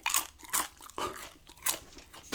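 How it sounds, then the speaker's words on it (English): Crunchy popcorn chewed close to the microphone, five or six sharp crackling bites spaced about half a second apart, quiet and intimate with no talking. "that's just plowing through this popcorn"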